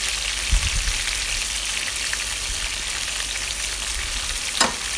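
Chopped beans and onions frying in a pan for Malaysian nasi goreng, a loud, steady, close sizzle throughout with a couple of brief stirring scrapes, no talk.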